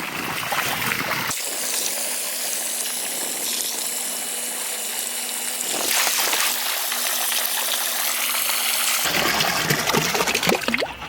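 A Milwaukee electric hand pump draining water out of an inflatable jet boat, with a steady motor hum over rushing, splashing water for several seconds before it cuts off, leaving water sloshing close by.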